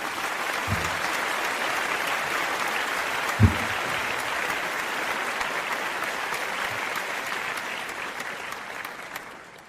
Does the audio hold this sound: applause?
yes